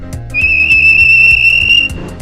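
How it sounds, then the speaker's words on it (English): A loud, shrill whistle blows in one steady tone for over a second, over a rhythmic chugging beat. "the whistle blew"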